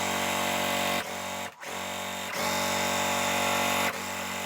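A sewing machine stitches quilt block pieces for a basket block with a close, continuous motor whir, briefly pausing twice and shifting pitch as it runs in several short bursts.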